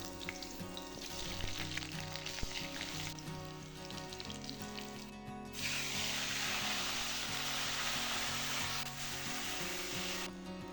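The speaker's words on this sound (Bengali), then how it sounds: "একটু হলুদ দিয়ে আলুগুলো ভেজে নেব।" Cut potatoes frying with turmeric in hot mustard oil, a close, steady sizzle that swells louder and brighter midway and continues evenly to the end.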